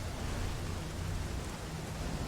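Steady rain against a window, a dense, even hiss with a low rumbling undertone, close and continuous, with no voices.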